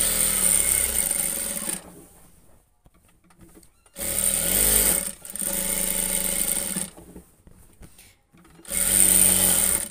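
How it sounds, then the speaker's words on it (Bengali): Sewing machine stitching a layered kantha quilt, running in three bursts of rapid whirring, steady stitching, separated by short pauses with quieter handling sounds. "আমি কিন্তু ঘুরিয়ে ঘুরিয়ে সেলাই করছি"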